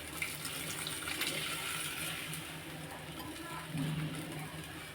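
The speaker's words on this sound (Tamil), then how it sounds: "தண்ணி கொதிக்குது. இப்போ நம்ம செவ்வரிசியை போட்டுக்கலாம்." Water rolls at a boil in a cooking pot as red rice goes in, a steady close hiss and bubbling with a faint clink and stir near the end.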